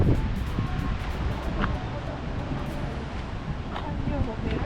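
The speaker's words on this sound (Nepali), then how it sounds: "हावा लाग्यो त्यही भएर।" Strong wind blows outdoors at a park in Sioux Falls, South Dakota, producing continuous gusty roaring and buffeting against the microphone, with no talking.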